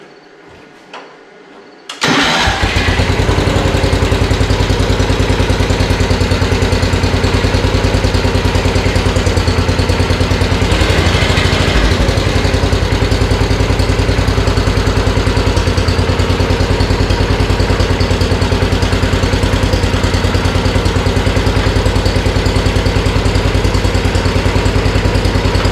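A Simplicity 7114 garden tractor engine cranks and catches after a short quiet moment, then runs loudly and steadily up close while driving, with an even, continuous drone that stays constant to the end.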